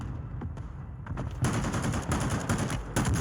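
Mortar strike explosions in the video game Warzone 2, a dense run of loud rumbling blasts and crackling bursts that hit in quick succession with no talk.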